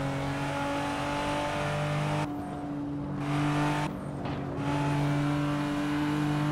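A Nissan Skyline R34 race car engine revving and accelerating in the Assetto Corsa racing game: a sustained, droning engine note broken by brief drops as it shifts gears, then climbing again.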